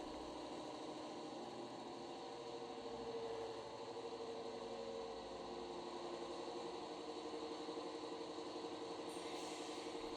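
An Accurascale model Class 55 Deltic locomotive with a 5-pole motor and twin flywheels runs under power, giving a faint, steady whirring hum that barely changes throughout.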